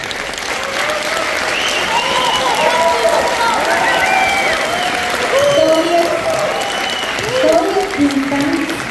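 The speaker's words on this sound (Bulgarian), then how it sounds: "А сега очаквам да посрещнем, разбира се, с аплодисменти" A folk dance competition audience applauds a semifinalist ensemble, sustained loud clapping from a crowd with scattered cheers and voices mixed in, swelling slightly toward the end.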